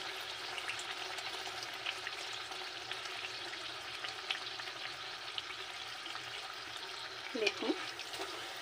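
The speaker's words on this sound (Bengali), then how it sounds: "একটু লাল লাল করে ভেজে নেব।" Pea-stuffed kachori frying in a pan of hot oil, a soft continuous sizzle and bubbling held at low level throughout, with a brief stir or clink near the end.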